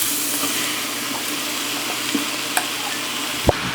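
Steak sandwich ingredients sauté together in a pan, giving a steady, close sizzle throughout with a few light clinks and taps of a utensil.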